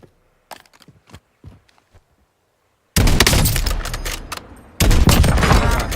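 Gunfire in a Call of Duty Warzone battle royale match in Verdansk, a few scattered quiet pops giving way to loud, sustained automatic bursts, briefly broken, then resuming heavily.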